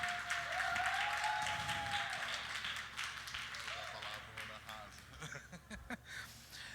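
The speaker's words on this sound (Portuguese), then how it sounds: "E agora eu queria pedir para vocês uma salva de aplausos calorosos para o" Audience applause for a guest at a live talk event: moderate clapping builds and fades over several seconds, fairly distant, with people talking and some tonal background sounds mixed in.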